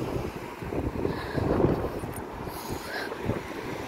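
Strong wind buffets the microphone outdoors, a steady low rumbling roar with gusts swelling and easing throughout, loud and close with no clear voices.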